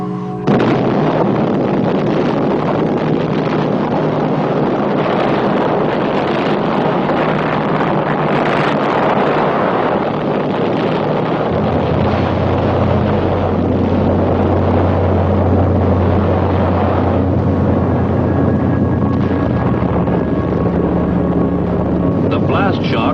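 A nuclear test detonation blast roars as a loud, sustained broadband rumble, with a deep low rumble growing heavier partway through and continuing steadily to the end.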